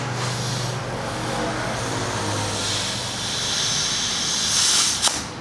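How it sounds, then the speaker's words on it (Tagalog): A steady broad hiss of air escaping, probably a tire leak at a vulcanizing shop, running continuously with a brief brighter surge and a sharp click near the end. "may singaw yata"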